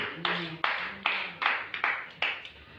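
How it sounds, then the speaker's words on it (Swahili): A church congregation clapping for Jesus in a steady rhythm, six sharp claps spaced evenly, each fading quickly, over a faint sustained tone. "Pigia Yesu makofi."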